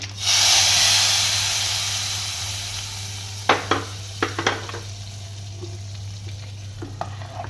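A loud burst of sizzling as the tempering of asafoetida and bay leaf in hot oil is poured into dal for dal dhokli, fading to a softer hiss with a few spoon knocks and clinks.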